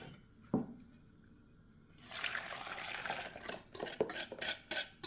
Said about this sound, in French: je ne cesse pas de remuer pour que mon mélange épaississe bien et que ça ne colle pas au fond surtout